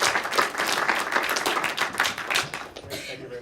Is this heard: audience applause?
yes